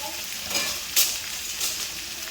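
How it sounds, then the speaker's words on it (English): Meat, beans and onions with chilies and garlic fry in a pan for a Thai dish, a constant close sizzle broken by a few louder stirring scrapes, no talking. "you got your meat cooking, your beans and your onions softening"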